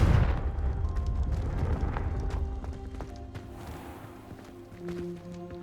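The Confringo blasting spell in Hogwarts Legacy lands as a heavy, booming explosion at the start. Its rumble fades out slowly, leaving quieter game ambience and footsteps behind.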